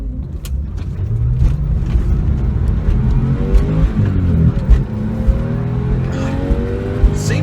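A high-mileage Porsche 911 engine revs steadily up and down nearby, a loud continuous drone with rising and falling pitch throughout.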